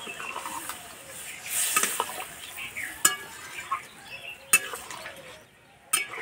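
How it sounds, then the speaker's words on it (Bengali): Water saved from boiling jackfruit pours into a hot pan, giving a close broadband sizzle and hiss with several sharp clinks of utensils against the pan. "আমি যে আঁচড় সিদ্ধ জলটা রেখেছি সেই জলটা দিয়ে দিলাম"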